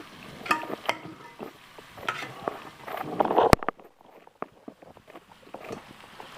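Grated carrots for gajar ka halwa being stirred and roasted in a pan on a low flame, giving soft scraping and faint sizzling in irregular strokes that grow quieter after a sharp click partway through.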